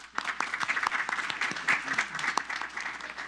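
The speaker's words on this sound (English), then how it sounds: "so we have to give them another round of applause" People at a city council meeting applaud city employees, a moderately sized room of clapping with distinct individual claps standing out against a steady patter.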